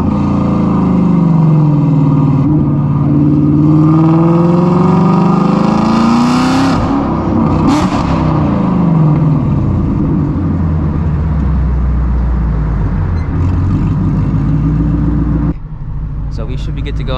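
A straight-piped Shelby GT350 exhaust roars loud and close while driving, with rising and falling engine pitch through gear changes, a sharp rev flare midway, then a steady lower drone near the end.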